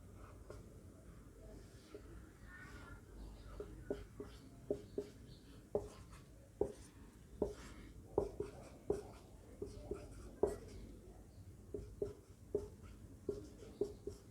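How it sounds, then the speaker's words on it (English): A pen or marker strokes across a board as a teacher draws a parallelogram diagram for vector addition, with scattered soft taps and scratches growing more frequent and distinct over a quiet background. "Now see here, I'll try to draw that parallelogram again."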